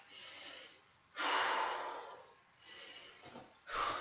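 Deep breaths during a bodyweight plank-and-squat workout, three or four long, loud inhales and exhales in a slow, even rhythm, close to the microphone, with no talking.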